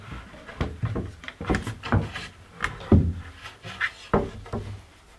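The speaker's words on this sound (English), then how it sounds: "I just take the fascia out and just move it along a little" A wooden drawer fascia is lifted out and slid along, giving a series of soft wooden knocks, scrapes and rubs at close range, irregular and quiet with no talking.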